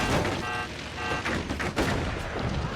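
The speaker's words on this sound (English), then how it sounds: "One more AP shot and it's done." Heavy armor-piercing sniper shots in the physics-based fort-building strategy game Forts, a few sharp booming reports over a dense, noisy battle background.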